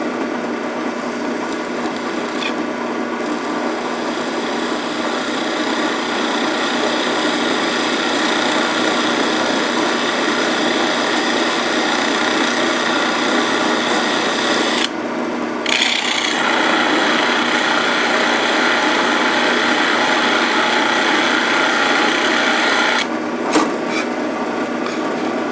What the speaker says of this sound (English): I'm going to drill it a little ways down. Not all the way through.